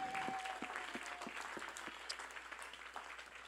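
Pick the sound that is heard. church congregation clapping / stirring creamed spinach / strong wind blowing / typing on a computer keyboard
church congregation clapping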